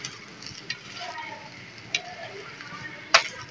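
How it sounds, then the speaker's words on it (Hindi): A paratha roasting with ghee on a hot tawa gives a soft, steady sizzle, broken by a few light clicks and one sharper tick near the end. "हल्के में घी लगाकर और सेकेंगे इसको अच्छी तरीके से"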